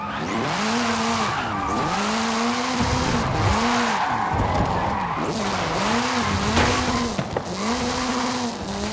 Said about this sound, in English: This is Mr. Kenneth Block's Hooligan Gymkhana 10 Ford Focus RS RX. 2-litre, turbocharged, front-mounted engine and all-wheel drive.